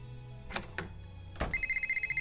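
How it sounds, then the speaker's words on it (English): A telephone rings in the Nancy Drew video game Labyrinth of Lies, a short electronic trilling ring pulsing rapidly after a couple of brief clicks and bumps, close and clear. "Ooh, phone call."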